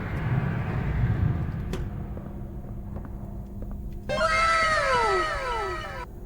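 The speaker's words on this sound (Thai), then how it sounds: "อันนี้ตัวอะไรอะแมว อันนี้แมวเนี่ย" A cat meows in the video game Poppy Playtime Chapter 2, a clear drawn-out meow near the end after quiet rumbling game ambience and a few clicks.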